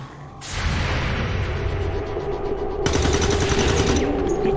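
Sustained gunfire in the XCOM 2 video game, dense rapid bursts of automatic fire rolling continuously and growing brighter and louder in the second half, with no talk over it.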